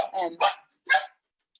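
A few sharp dog barks close by, two quick bursts then a third after a short pause, with silence between.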